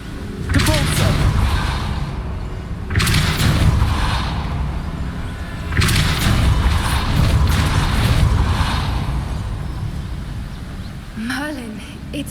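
Depulso spell cast in the video game Hogwarts Legacy, loud booming magical blasts that repeat in several heavy surges with rumbling low end, along with game sound effects.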